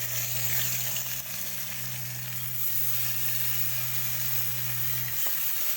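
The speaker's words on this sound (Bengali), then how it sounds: "এবার তেল গরম হয়ে এসছে, আমি মাছগুলো দিয়ে দেব এক এক করে।" Sarpunti fish, rubbed with turmeric, frying in hot oil in a wok, giving a loud continuous sizzle and hiss over a low hum, close and unbroken, with a brief knock near the end.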